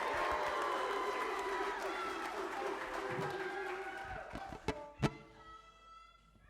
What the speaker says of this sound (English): Give a big round of applause to Sounds of the Soul.